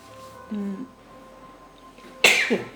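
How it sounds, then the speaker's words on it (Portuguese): A single loud, sharp sneeze bursts out near the end, preceded by a brief murmur and a quiet, humming room. "Tô aqui tentando não espirrar, mas misericórdia."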